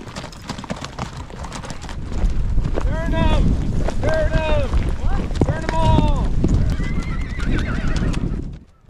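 A herd of paint horses gallops past with a dense, continuous drumming of hooves. Several loud whinnies ring out over wind buffeting the microphone, and voices come in between the calls.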